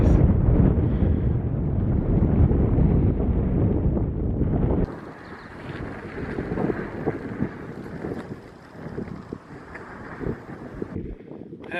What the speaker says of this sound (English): It's still pretty windy up here.